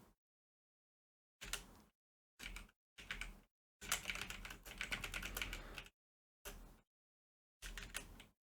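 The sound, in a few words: typing notes on a computer keyboard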